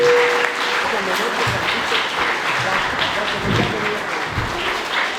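Audience applause after a biologist's talk on Pleistocene mammals, a steady broadband patter of many hands lasting throughout, moderately loud with a brief tone and some voices faintly underneath.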